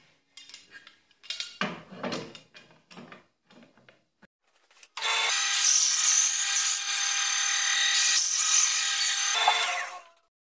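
A power tool runs at a loud, steady whine for about five seconds as it splits a piece of wood lengthwise along a guide, after several quieter knocks and handling sounds.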